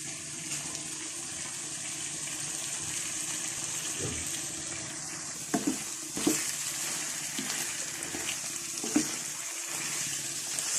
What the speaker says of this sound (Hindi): सब्जियों को थोड़ी देर भून लिया है।